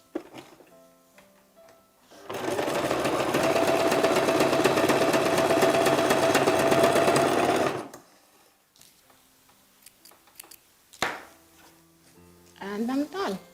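A home sewing machine runs a zigzag stitch along fabric for a girl's dress, a fast, steady mechanical whirring chatter lasting several seconds up close, with quieter handling noises and speech before and after.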